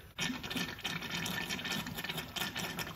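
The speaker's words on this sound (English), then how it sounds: "You can hear it gurgling down in the tunnel." Coolant gurgles and trickles as it drains into the tunnel of a Polaris 800 RMK Pro Axys snowmobile, a faint, continuous bubbling flow lasting a few seconds.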